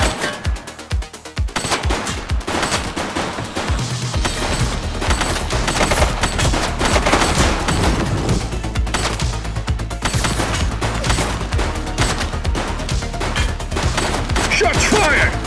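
Sustained police shootout in the game The Precinct, loud machine-gun bursts and rapid shots in dense overlapping volleys that run nearly the whole stretch after a brief gap near the start.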